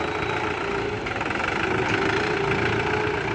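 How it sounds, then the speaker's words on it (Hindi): A Mahindra 595 DI Turbo backhoe loader's diesel engine runs steadily and loud nearby, a constant throbbing rumble with a slight rise in the middle and no voices. "देखिए किसान वीरो Mahindra 595 turbo DI backhoe loader किस तरह काम करता है।"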